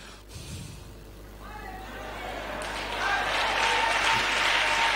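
A congregation at a church service applauds in acclamation for Jesus Christ, the clapping swelling steadily louder over several seconds with voices mixed into the crowd noise.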